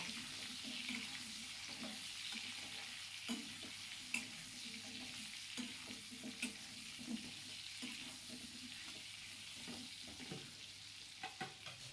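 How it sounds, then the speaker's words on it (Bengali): Chopped vegetables with jackfruit seeds and pumpkin frying in a pan for a shrimp and Malabar spinach dish, a low continuous sizzle broken by regular scraping stirs of a spatula, quiet and without talk. "এবার সবগুলো আনাজ ভালো করে ভেজে নেব।"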